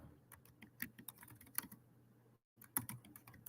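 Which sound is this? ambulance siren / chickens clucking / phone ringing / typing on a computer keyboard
typing on a computer keyboard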